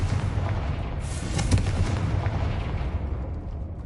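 A Confringo spell blast in the video game Hogwarts Legacy, a loud, booming explosive burst with a rumbling tail, heard on its own without talk.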